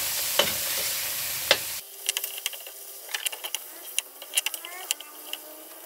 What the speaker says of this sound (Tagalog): Ano lang natin itong karne, pa-brown brown.